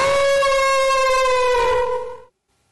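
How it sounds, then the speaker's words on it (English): A wolf gives a single long, sustained howl, steady and tonal, drifting slightly lower before it cuts off, loud and alone. "he heard a howling sound of a wolf."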